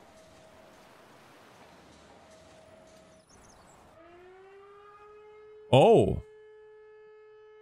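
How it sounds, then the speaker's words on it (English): A steady, droning fire-alarm siren in the video game Emergency 5 holds a sustained tone, rising a little partway through, and a sudden loud exclamation cuts in near the end. "Alert by siren."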